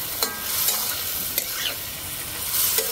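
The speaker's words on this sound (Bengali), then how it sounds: "মশলা হয়ে গেছে, এবারে ভেজে রাখা সবজিগুলোকে দিয়ে দিচ্ছি, দিয়ে ভালো করে কষিয়ে নিচ্ছি।" Previously fried mixed vegetables are stirred into cooked masala in oil, a loud bright sizzle beneath repeated scraping strokes of a spatula against the pan.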